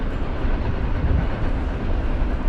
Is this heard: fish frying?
no